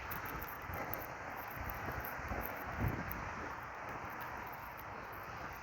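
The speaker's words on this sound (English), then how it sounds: "walking into the wind" Continuous wind buffeting a microphone while walking outdoors at a winter ice festival in Medina, Ohio: a loud, broad rushing roar with low gusty rumbles and no talk.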